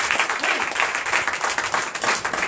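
Church congregation applauding during a testimony service in Comè, Benin, a dense, steady wash of many hands clapping at even loudness throughout, with no speech over it.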